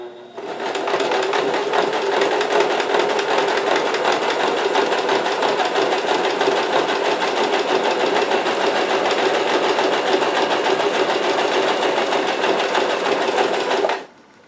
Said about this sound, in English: So I'm going to sew along this edge.